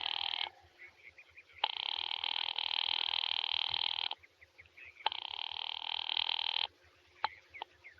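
A telephone bell rings in two long bursts separated by a short pause, fairly loud and close in a quiet house, with small clicks at the end.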